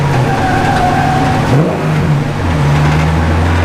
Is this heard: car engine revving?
yes